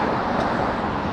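Traffic roars on a busy Shanghai road as buses pass, a dense, steady rush of engine and tyre noise close by with no pauses.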